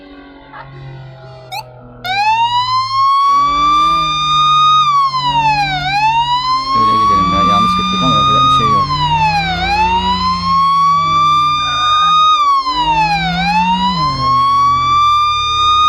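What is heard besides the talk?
police car siren in video game Flashing Lights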